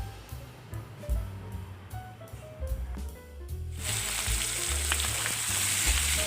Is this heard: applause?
no